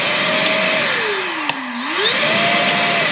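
A Milwaukee M18 36-volt wet/dry shop vac with low and high speeds runs loudly up close, its motor whine sliding down in pitch, then climbing back, with a brief click midway.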